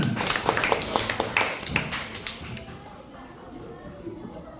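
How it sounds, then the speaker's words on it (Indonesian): A classroom group claps together in a quick burst of close, crisp hand claps that thins out and fades after a few seconds, leaving quieter room noise. "Pinter. Tepuk tangan"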